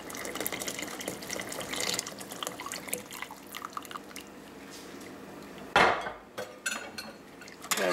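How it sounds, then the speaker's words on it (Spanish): Corn masa mixture for champurrado pours and strains through a colander, a steady wet trickle and dripping with light clinks of kitchenware, then a sharper splash and clatter near the end, close and with no talk. "la vamos a colar, pasar en el colador"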